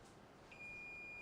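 Multimeter continuity tester sounding as its probe touches ground on a dead iPhone 14 Pro Max board; a single thin, steady high-pitched beep starts partway in and holds to the end, quiet against a faint background hiss.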